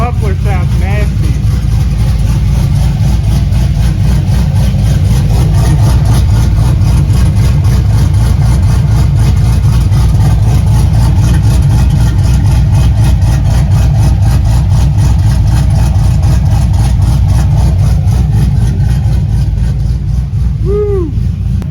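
A truck engine with a Spintech muffler idles loudly and close, a deep, rough and continuous exhaust rumble that holds steady throughout.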